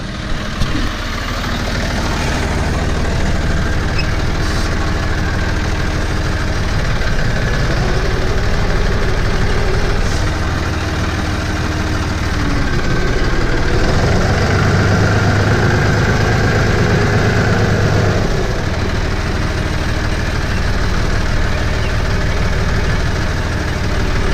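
A John Deere tractor engine idles steadily nearby, a low, rumbling drone that holds for the whole stretch with slight rises in pitch and roughness.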